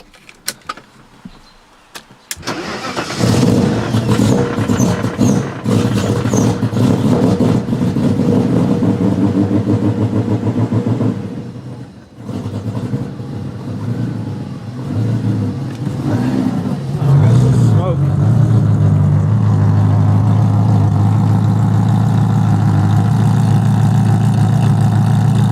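A V8-swapped BMW E30 cranks and catches, then idles and revs with throttle blips, a loud close engine roar running steadily with a brief dip midway; a voice talks over it.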